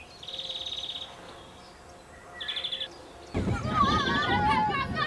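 Bird chirps and trilling calls repeat in short bursts against a quiet summer countryside background in Wiveliscombe, then a busier stretch of overlapping birdsong takes over.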